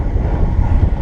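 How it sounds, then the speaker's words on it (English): Steady headwind roars over a cyclist riding on flat road during a cycle tour in Taiwan, a constant low buffeting rumble on the microphone with no pauses and no voices. "So it's just been headwind all the way"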